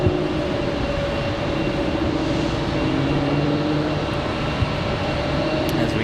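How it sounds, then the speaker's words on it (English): An Air Canada airliner taxis around a corner at Raleigh-Durham International Airport, its engines giving off a steady, loud, even roar with a faint whine, heard alone. "As we get Air Canada coming around the corner here."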